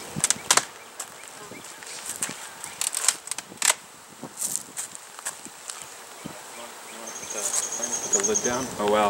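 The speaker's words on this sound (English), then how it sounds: "All right, we got a boatload of bees." Honey bees swarming around an opened hive in spring, a dense close buzz with individual bees zipping past the microphone amid faint rustling.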